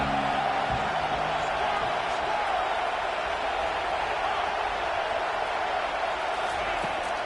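Crowd noise fills an Oregon college football stadium on a third down, a dense, loud, continuous roar of cheering that holds steady throughout.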